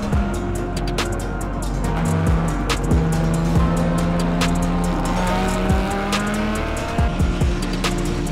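Race cars at the Nogaro circuit during the 2022 Tour Auto, engines roaring loudly and continuously with tires squealing through corners and cars passing close by.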